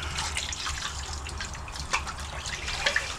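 Freshly caught trout are rinsed in lake water at a fishery, making a soft, continuous splashing and trickling close by, with a few small drips and no talk.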